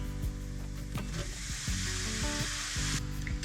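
Tofu mashed to look like ground beef hits a hot pan and sizzles steadily, with scraping and stirring knocks of a utensil against the pan over the continuous frying hiss.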